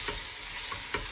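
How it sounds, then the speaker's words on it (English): Pepper, celery, garlic and chilli frying in a pan, a brief steady hiss of sizzling with faint stirring ticks, close and alone. "I've just finished frying the pepper, celery,"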